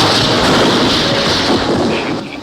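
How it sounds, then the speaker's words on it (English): Cartoon fireworks display with a loud, continuous roar of overlapping explosive bursts and crackle, sustained and dense for the whole stretch before tapering slightly at the end. "Here's a fireworks display we saw."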